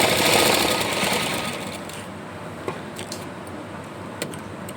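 A sewing machine runs along the fabric edge of a pair of men's shorts, a fast, dense mechanical chatter for about two seconds that then eases off into quieter handling with a few sharp clicks.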